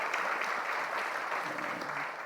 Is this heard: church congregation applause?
yes